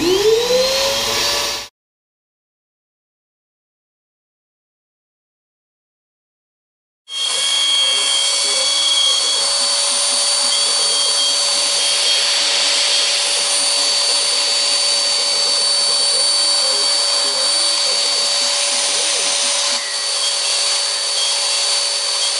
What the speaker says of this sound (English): We'll go ahead and start the router and we'll hit our start button and we'll let it cut.